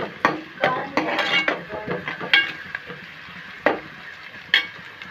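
Green chillies and curry leaves fry in hot oil for a chicken gravy curry, with close spluttering sizzle and repeated clinks and scrapes of a spoon against the pan.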